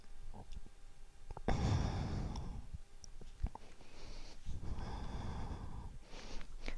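Yoga breathing during a flexibility stretch, with a forceful breathy exhale in the middle and a softer airy breath later, close and quiet among small clicks and rustles.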